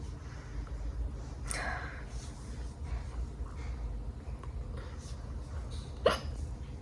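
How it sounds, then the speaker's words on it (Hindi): Hiccups from a pregnant woman after vomiting up milk: two or three abrupt, faint gulping catches spaced a few seconds apart, heard alone against quiet room noise. "हिचकी आई थी।"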